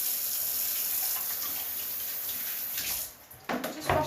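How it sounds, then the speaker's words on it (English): Water from a kitchen tap runs steadily as hands are washed under it, a constant close hiss that breaks near the end into splashing as the hands move through the stream. "I'll just wash my hands."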